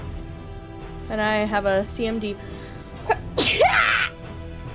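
A single sharp sneeze bursts out loudly near the end, following a person talking in a quiet room.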